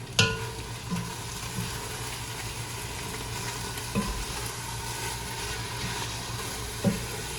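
Stirring taco ingredients in a hot pan during home cooking, with a steady background sizzle and a few soft scraping knocks of the spoon spaced several seconds apart.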